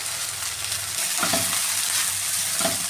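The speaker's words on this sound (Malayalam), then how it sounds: "വെണ്ടയ്ക്ക നന്നായി ഫ്രൈ ആയിട്ടുണ്ട്." Sliced okra frying in oil in a pan with a constant bright sizzle, broken by a couple of soft scraping stirs, close and fairly loud.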